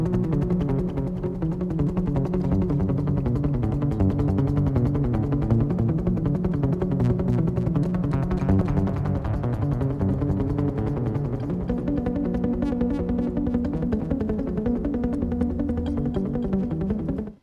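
A piece played on guitar with a delay trick, sustained repeating notes layering into a dense, continuous wash of echoing tones, steady in level throughout.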